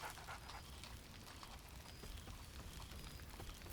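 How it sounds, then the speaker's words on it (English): Scratch, a dog in the video game Baldur's Gate 3, pants steadily and close for a few seconds, with a faint whine woven in over a low background rumble. "Scratch barks merrily in something like agreement."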